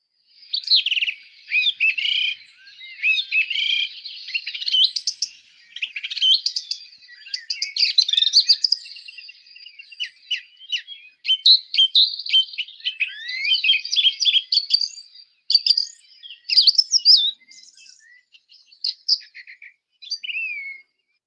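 A song thrush sings from a recording, clear high phrases repeated in bursts with short pauses, bright and varied, alone without any talk or background noise.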